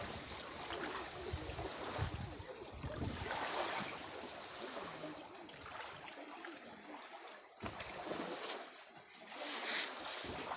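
Waves wash steadily onto a beach with clear water, a broad continuous surf roar that swells and eases, with wind mixed in and no talk.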